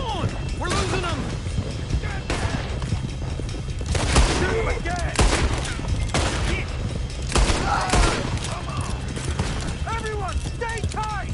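Gunfire cracks out in scattered shots during a horseback chase in Red Dead Redemption 2, mixed with galloping hooves, wind and shouting voices, fairly loud against a busy outdoor background.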